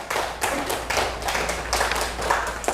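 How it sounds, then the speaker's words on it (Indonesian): A class claps hands together in a rhythmic pattern, sharp repeated claps in regular bursts, fairly close and moderately loud, with no talk over them. "Oke, tepuk tangan dulu."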